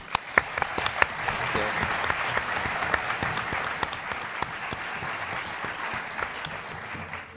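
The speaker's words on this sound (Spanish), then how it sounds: "quiero también pedir un aplauso para King Gutiérrez." Sustained audience applause after a call for a round of applause for King Gutiérrez at a post-premiere film discussion, dense steady clapping from a seated crowd with sharper individual claps standing out, moderately loud throughout.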